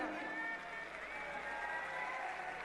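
Large outdoor audience at a political public meeting in Dewas, Madhya Pradesh, keeps up a steady, even wash of applause and crowd noise, distant and moderately loud throughout with no break.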